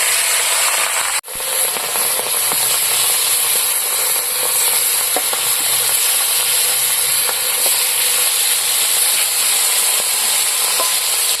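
Pieces of pangas fish fry in hot oil in a village-style kitchen, giving a steady, loud sizzle with crackle that runs the whole time, broken only by one brief dip near the start.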